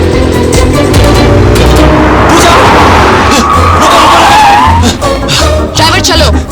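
Cars skid through a film chase scene, tires squealing loudly over a steady engine roar, with a long rising screech in the middle and shouting voices mixed in.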